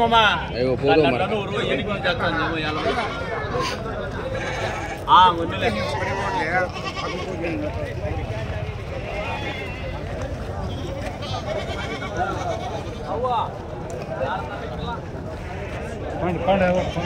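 Goats bleat repeatedly amid a crowded weekly goat and buck market, their wavering cries rising over steady chatter and near, overlapping voices of traders.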